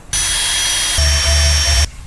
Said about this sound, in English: So we got our 7/16 drill bit. We're gonna go ahead and drill these holes, both sides